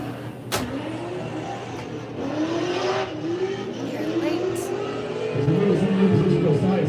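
Drift cars at a drift competition rev and scream in a continuous rising-and-falling engine drone, with a sharp crack early on, building louder toward the end while a commentator talks over it.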